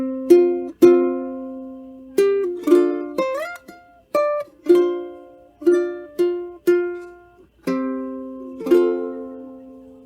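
Plucked ukulele notes form a gentle fingerpicked melody of the Japanese traditional song Akatonbo, a dozen or so bright, separate plucks with small slides, close and unaccompanied.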